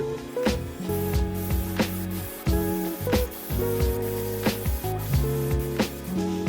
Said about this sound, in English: this is me airbrushing